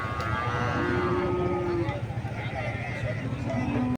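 Cattle being led off a trawler down a ladder at a riverside cow market, with drawn-out lowing moos rising over steady crowd chatter and background talk.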